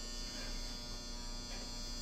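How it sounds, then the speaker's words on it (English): A clothes dryer runs indoors with a steady, loud electric buzz and hum that holds constant throughout, with no one talking. "sorry, that's the dryer"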